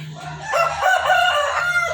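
A fighting-cock rooster crows loudly and close by, a long drawn-out call over steady low clucking and murmuring from other chickens in a coop.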